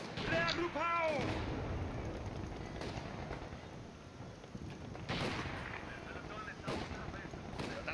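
Battlefield gunfire in the WWII strategy game Company of Heroes 2, with heavy booming shots and bursts of rifle and machine-gun fire over rumbling ambience, loud impacts near the start and again a few seconds later.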